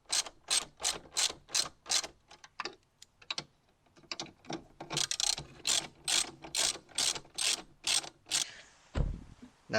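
On a 1966 Mustang, a ratchet clicks in quick, rhythmic bursts as the steering column is clamped back in. Sharp close pawl clicks come in steady runs with brief pauses, ending in a duller thud.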